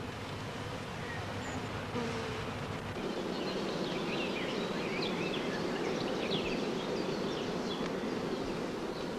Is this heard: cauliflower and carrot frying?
no